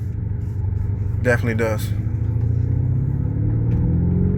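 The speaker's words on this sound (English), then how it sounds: "But the exhaust sounds really good." 2021 Lamborghini Urus engine and exhaust rumbling steadily during a drive, a low continuous drone that rises slightly in pitch, with a short burst of speech from people in the cabin over it.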